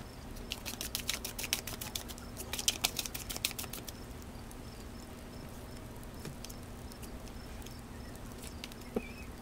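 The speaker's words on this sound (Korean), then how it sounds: "카드를 조금 더 뽑아서 조금 더 들여다보도록 할게요." Soft, quick papery flicks and taps of tarot cards being drawn and laid down, clustered in the first few seconds before fading into quiet.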